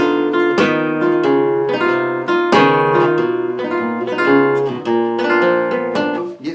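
Flamenco guitar arpeggio pattern with a tap on the wooden body and a downward thumb stroke, repeating plucked note groups punctuated by sharp percussive knocks, played close and clear with no talking.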